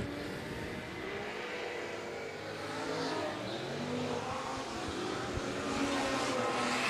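V8 super stock race cars circle a slippery speedway track in a 20/20 race, engines roaring and revving with wheel spin, a dense sustained drone from a distance that swells gradually louder with no commentary over it.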